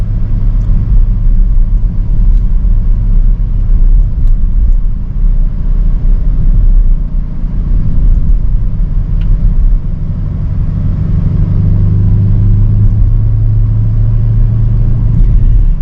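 A 2023 BMW XM on the road, its engine giving a steady, deep low rumble with continuous road and cabin noise throughout, heard from inside with a slight swell in the later seconds and no talking.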